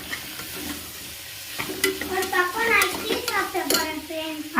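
Vegetables sautéing in a pan with salt and masala, a soft sizzle under clinking spoon-against-pan stirring that grows busier and louder, with faint talk in the background.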